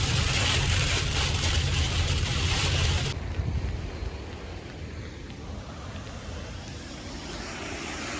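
Wind blowing hard outdoors on a fishing trip in the rain, a loud broadband roar buffeting the microphone for the first three seconds, then easing to a steadier, softer rush.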